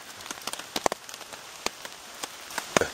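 Rain patters steadily on an outdoor trail, a dense hiss of fine drops broken by louder, nearby splats at irregular intervals, with no voices.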